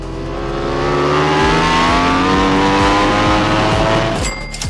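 Racing motorcycle on a track, its engine loud and close and climbing steadily through the revs on a straight while passing a Suzuki GSX-R1000, with a brief gear change near the end.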